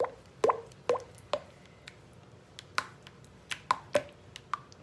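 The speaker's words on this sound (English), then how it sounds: "you want to stir it because you want to hydrate all of this flour" Pita bread dough is stirred with flour in a bowl, producing a string of wet, sticky plops and squelches at an uneven rhythm, close and fairly clear, with no speech.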